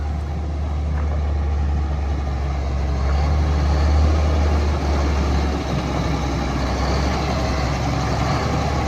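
A 1999 Mack RD688S heavy truck engine idles with a steady, deep low rumble that continues unchanged throughout, with no voices.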